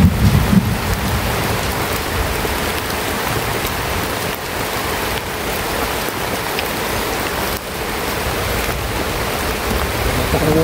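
Heavy rain pours down in a dense, constant hiss and patter, with deep thunder rumbling underneath throughout.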